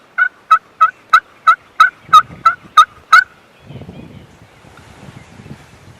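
A wild turkey gobbler gobbles in a rapid burst of about nine loud, evenly spaced calls, followed by faint rustling and wind in the woods.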